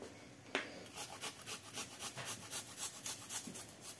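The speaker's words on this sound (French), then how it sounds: "Je râpe une gousse d'ail" A garlic clove is rubbed over a kitchen grater in a quick, steady rhythm of faint, close scraping strokes, roughly three per second, with no talking.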